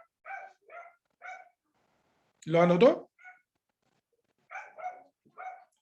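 Dogs outside barking at a passing mail carrier: short, clipped barks in quick pairs and triples, somewhat distant, with a brief spoken question in between.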